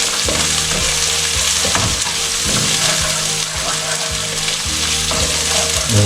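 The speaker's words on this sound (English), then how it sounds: "onion fry to kind of golden brownish" Onions sizzle and fry steadily in a pan while cooking Hakka noodles, with a loud, continuous crackle. Periodic scraping stirs run through it, close up.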